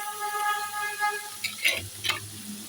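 Onions fry in a pan with a soft sizzle, and then a few sharp scrapes and knocks of stirring break in near the end, close by and without speech.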